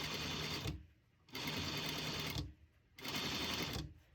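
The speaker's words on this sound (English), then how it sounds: "just sewing right next to it to keep that seam down" A sewing machine stitches a seam on a fitted fabric face mask in three rapid, rattling bursts with brief pauses between them, close up and clear with no voices.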